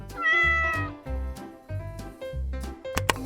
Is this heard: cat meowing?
yes